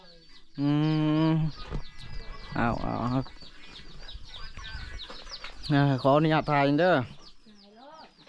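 Chickens and chicks cluck and squawk in loud, repeated calls around a rural yard, while people talk in between.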